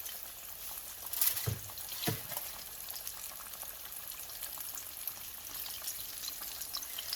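Chicken wings frying in hot oil in a large skillet, a steady soft sizzle and bubbling throughout, with a couple of louder splashes early on as pieces go in.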